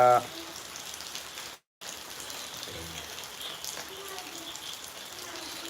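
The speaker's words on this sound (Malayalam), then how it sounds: "മഴയാണ് മഴ മഴ മഴ" Heavy rain pours steadily as a broad, even hiss across the whole stretch, with a brief dropout near the middle and faint voices underneath.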